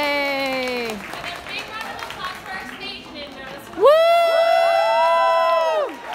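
A crowd at an international cosplay contest cheers and applauds, loud shouts and whoops rising in a big burst near the end, with voices calling out among the clapping.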